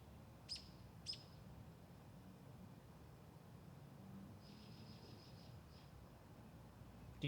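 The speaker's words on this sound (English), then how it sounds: "You can hear the birds." Faint bird chirps outdoors: two sharp tweets early on and a softer trill a few seconds later, over a quiet, hissy background.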